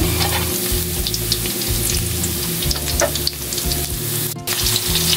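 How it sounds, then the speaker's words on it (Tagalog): Ground meat sautéing in a pan with onion and garlic, a steady dense sizzle with repeated scraping strokes of a spatula stirring throughout, close and loud, with no talking. "Nilagyan na natin ang giniling. Haluin natin ng haluin."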